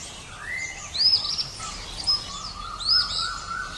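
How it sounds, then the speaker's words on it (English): A kingfisher calls close and clear: three short, sharp, high-pitched whistled notes, evenly spaced over a few seconds, with no speech. "Kingfisher. K-I-N-G-F-I-S-H-E-R."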